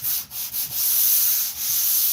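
Electric sander gliding up and down over a wooden surface under light hand pressure, a steady close abrasive hiss with brief dips as the pad shifts, no voices.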